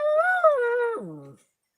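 A dog shut in a car lets out a single drawn-out, wavering howl that drops in pitch and fades away after about a second and a half, close by, with no talk.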